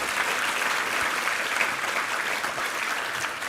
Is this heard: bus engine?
no